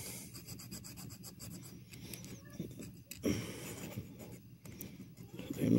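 File rasping a small bevel on a rear main engine bearing from a small block Chevy, with steady close scraping strokes in short repeated passes and a louder stretch of strokes toward the end.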